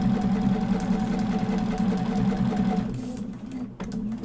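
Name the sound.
sewing machine stitching a paper piecing quilt block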